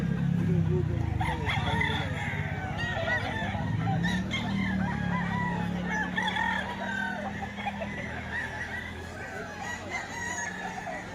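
A Sweater-breed gamefowl rooster crows and clucks at a farm in Lipa, Batangas, sounding loud and close, with voices talking in the background.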